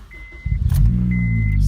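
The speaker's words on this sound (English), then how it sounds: "So first you're going to want to start the car." Manual-transmission car engine cranking with the key and catching into a steady low idle, preceded by a couple of faint electronic dash beeps; close and loud once running.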